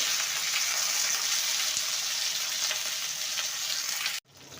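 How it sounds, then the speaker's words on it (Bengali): Flat shim beans fry in a pan with fried onions, giving a steady hissing sizzle throughout that cuts off abruptly near the end, no voices. "শিমটাকে ভেজে নিতে হবে"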